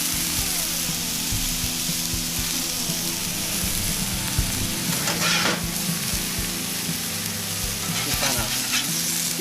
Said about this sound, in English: Hear that sear?